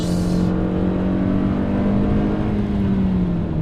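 A 2018 Hyundai Sonata Limited with the 2.4L engine revving high, a loud, steady droning roar with a strong tonal hum that slowly sags in pitch, heard close and alone.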